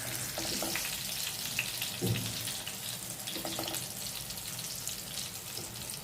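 Fish frying in a pan for a home-style fish fry, with steady close sizzling and bubbling spread through the clip, plus a few soft clinks of handling; no talking.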